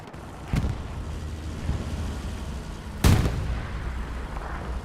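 Rocket shots strike a tank in the video game Hell Let Loose: two heavy, booming impacts several seconds apart, the second louder, over a constant low rumble of battle.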